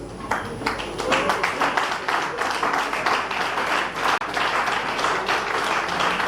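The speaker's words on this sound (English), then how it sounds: "please stand up for a round of applause" Audience applause at a political gathering of movement leaders and state coordinators, a dense, steady wash of many hands clapping that continues loudly throughout with a brief dip near the end.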